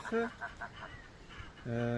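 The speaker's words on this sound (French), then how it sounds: "Vous pouvez voir les petites oies." Young goslings on a farm peep in short high calls, a few scattered chirps early on, then a louder sustained run of calls near the end, with faint background sounds between.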